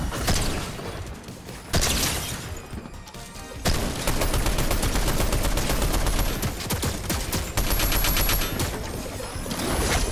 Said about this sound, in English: Turret is doing work right now,